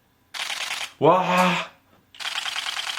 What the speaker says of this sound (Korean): 제가 이걸 처음 만져보고 제일 감동했던 게 셔터 소리인데 셔터 소리 한번 들어보세요.